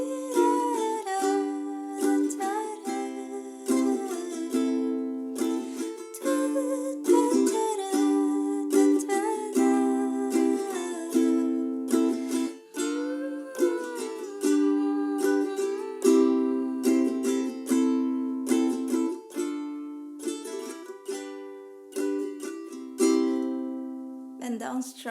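Ukulele strummed through the outro chords of a song, a steady down-down-up-down-up pattern played once per chord, close and bright with no talking, ending on a ringing final strum.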